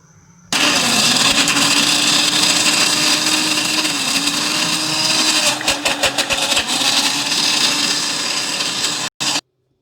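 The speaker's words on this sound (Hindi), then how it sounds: "इसमें डाल के ग्राइंडर में डाल के इनको अच्छी तरह पीस लेंगे" An electric kitchen grinder whirs loudly as it crushes almonds, coconut and nuts into a coarse mix, running steadily for several seconds before pulsing briefly and cutting off.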